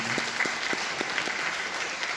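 Church congregation applauding during a sermon, a steady dense wash of clapping from many hands, moderately loud, with no talk over it.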